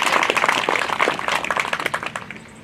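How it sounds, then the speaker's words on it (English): Round of applause for teachers at a fifth grade completion ceremony, a crowd of hands clapping briskly with distinct close claps that thin out and fade toward the end. "giving them a round of applause"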